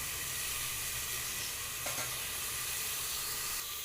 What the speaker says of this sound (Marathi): फोणीला आता वाटण टाकायचं झालं